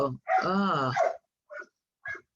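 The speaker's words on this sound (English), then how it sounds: "that dog would just not stop" A dog outside lets out one long, drawn-out bark or howl, followed by two short, sharp barks with quiet gaps between them.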